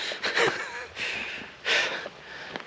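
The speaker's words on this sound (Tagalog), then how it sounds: "grabe hingal" Heavy, breathy panting from a hiker climbing a trail on Elk Mountain near Chilliwack, British Columbia, with several loud, close gasping breaths separated by short pauses and no talk.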